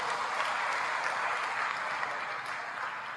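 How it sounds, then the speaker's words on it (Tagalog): A church congregation at a Divine Mercy service applauds in sustained, even clapping. It is moderately distant and fairly soft, continuous throughout with no speech over it. "Isang malakas na palakpak sa ating Panginoon."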